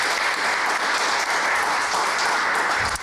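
At a jazz trio performance, the audience gives a round of applause for the bass player. The clapping is dense and continuous, holding at a steady, loud level for about three seconds with no voices over it.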